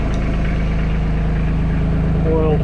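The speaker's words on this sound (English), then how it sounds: "Engine is idling, run it for a minute or two" A small Isuzu 3LD1 three-cylinder diesel engine idles close by, a loud steady low throb with even rhythmic pulses throughout.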